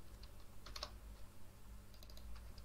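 Quiet, close typing on a computer keyboard while writing code for a React and Socket.io chat app, with short clusters of light key clicks separated by pauses.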